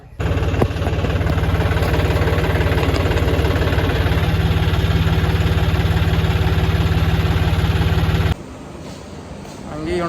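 A tractor engine idles steadily and loud at a village fair procession for a Sikh gurpurab, with a low droning rumble that holds for about eight seconds before cutting to quieter background noise.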